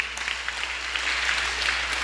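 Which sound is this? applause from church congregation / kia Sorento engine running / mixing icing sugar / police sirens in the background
applause from church congregation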